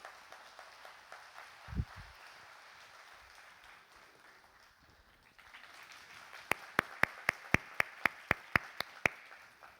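A church congregation applauds to welcome a deacon: soft, diffuse clapping at first, then a run of about ten sharp, evenly spaced claps in a steady rhythm.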